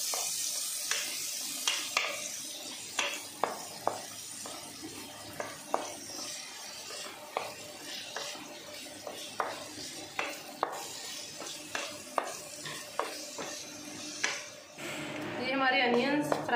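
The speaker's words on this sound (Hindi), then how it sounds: "अब इसमें मैं अनियन ऐड करने लगी हूँ। अनियन को हमने कुक करना है ब्राउन होने तक।" Onions frying in a pan for a restaurant-style mixed vegetable dish, with a steady low sizzle and repeated clinks and scrapes of a spatula stirring against the pan throughout.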